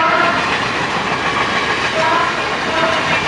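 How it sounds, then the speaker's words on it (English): A train passing by, a steady loud broadband rumble with faint rhythmic rail clatter and a few thin tonal squeals, continuous throughout with no speech. "There's the train again."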